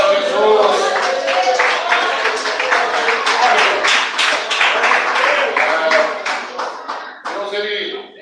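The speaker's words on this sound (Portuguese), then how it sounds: "Pode assentar, bater palmas e dar glória a Jesus." A church congregation claps together in a dense burst of applause that holds steady for several seconds before tapering off, with a voice faintly underneath.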